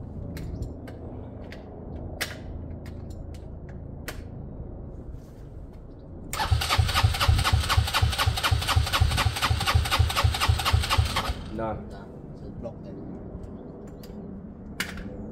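A Benelli Velvet motorcycle engine catches after clicks and cranking, then runs in a loud, steady idle for about five seconds before cutting out, followed by scattered clicks and handling noises.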